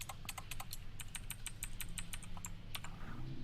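Quick bursts of typing on a computer keyboard, close crisp key clicks in an uneven rhythm with short pauses, over a low background hum.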